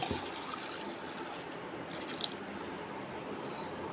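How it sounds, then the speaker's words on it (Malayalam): Water pours steadily into a pot while making boiled mango juice, a continuous close splashing rush with no voices. "വെള്ളം ഒഴിച്ചു"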